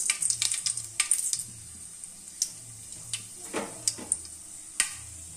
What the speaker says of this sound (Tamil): இப்போ தாளிச்சுக்கிடுவோம்